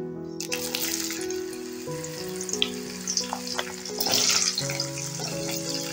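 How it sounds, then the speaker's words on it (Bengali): Carrots hit a hot pan as vegetables start frying, giving a steady close sizzle with some stirring, partly masked by background music. "এবারে আমি সবজিগুলো ভেজে নেব।"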